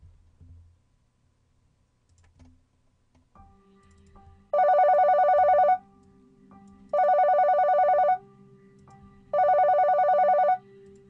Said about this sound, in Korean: 상원실에서 걸려오는 전화.